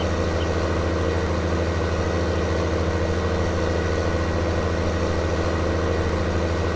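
A tractor engine idles steadily in Farming Simulator 19, a constant low droning hum with no change in pitch and no other sounds over it.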